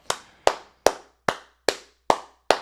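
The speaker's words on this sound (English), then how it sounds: "Clap it up" Seven crisp, evenly spaced hand claps ring out one after another at a brisk, regular beat. Each clap is sharp and close, with a short echo tail in an otherwise quiet room.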